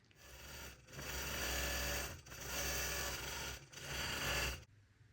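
An embroidery machine stitches out a Sweet Dreams tree skirt pattern, a loud, rapid mechanical whirring and rattling that runs in three long bursts separated by brief pauses, then stops.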